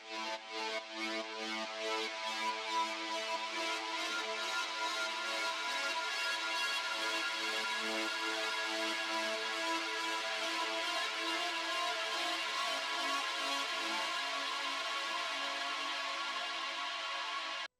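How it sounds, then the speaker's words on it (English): Ambient lead guitar tone played on a MIDI guitar instrument, a sustained, shimmering pad-like wash of layered harmonic notes pulsing steadily throughout, heard alone at an even, moderate level with no talking. "this intro guitar, which is this lead one here, which sounds like this on its own"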